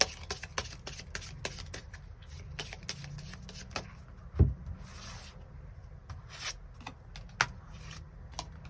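Tarot cards rubbing and sliding against each other as a deck is shuffled and cards are drawn, soft papery swishes and riffles with one louder tap partway through, quiet and close.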